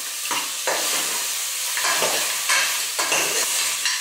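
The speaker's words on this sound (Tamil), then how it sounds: "நண்டு சேர்த்துட்டு நல்லா கலந்து விட்டுக்கோங்க." Crab pieces are stirred into a sizzling masala in a pan for a Madurai-style crab soup, a spoon scraping in repeated sweeping strokes over a steady close fry hiss.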